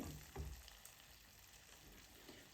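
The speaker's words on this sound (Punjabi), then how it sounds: "ਹਰੇ ਮਟਰਾਂ ਨੂੰ ਮਸਾਲੇ ਵਿੱਚ ਆਪਾਂ 2-3 ਮਿੰਟ ਲਈ ਭੁੰਨ ਲਏ" Green peas roasting in a spice masala in a pan give off a soft, steady sizzle, faint and continuous, with a couple of brief louder stirs and no talking.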